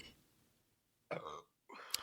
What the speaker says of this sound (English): She's burping.